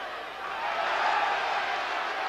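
A football stadium crowd at a Norwich City versus Tottenham Hotspur Premiership match rises into a sustained, loud roar of displeasure, a dense continuous wall of many voices with no single voice standing out.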